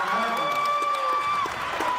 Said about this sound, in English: Crowd goes wild for that layup right there